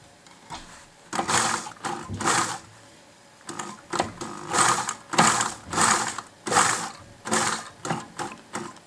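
A sewing machine stitches fabric for a turban kit in short, close bursts of rapid whirring, pausing briefly between runs as the work is turned at the corners.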